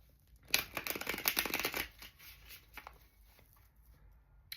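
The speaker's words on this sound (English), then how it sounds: "We'll give the cards a shuffle." A tarot card deck being shuffled close by, a quick riffling burst of papery flutter lasting over a second, then softer rubbing and shuffling sounds trailing off, with no talk.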